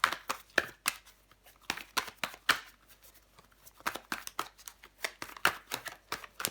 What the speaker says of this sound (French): Je vais recouvrir des cartes. On va recouvrir des cartes.